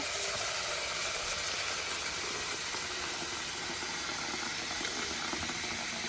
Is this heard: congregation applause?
no